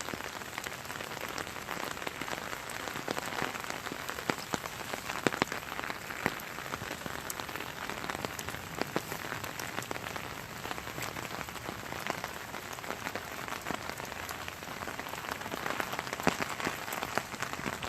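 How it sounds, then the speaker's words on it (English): Steady rain falls outdoors, a dense, even hiss of drops striking surfaces with crisp scattered patters throughout, continuous and close-sounding, with no voices over it. "Just go ahead and listen to the rain."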